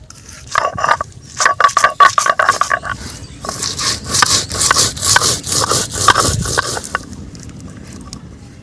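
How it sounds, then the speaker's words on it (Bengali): Soaked cumin, coriander and fennel seeds are ground on a stone, with rhythmic close scraping and rubbing strokes in quick bursts, then a steadier, denser grinding run. "জিরে ধনে মৌরি আমি 10 মিনিট আগে ভিজিয়ে রেখেছিলাম, এগুলো তিনটে একসঙ্গে দিয়ে আমি বেটে নেব।"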